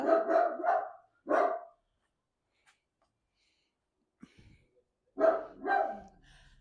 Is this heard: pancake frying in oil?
no